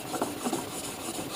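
A knife blade is drawn across sandpaper on a homemade Apex-style sharpener, making a close, steady, dry rasping scrape with faint stroke-by-stroke pulses over a short stretch.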